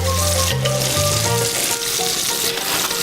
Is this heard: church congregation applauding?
no